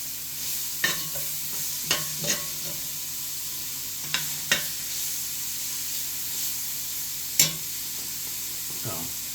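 Chuck beef for chili, seasoned with chili powder and smoked paprika, sizzling steadily in a hot pan over high heat, with scattered scrapes and taps of stirring close by and no talk.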